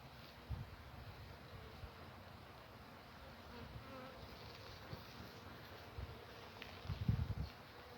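Honey bees buzz over a hive frame during a late-autumn pre-winter hive check, a soft continuous hum with a few closer louder passes near the end.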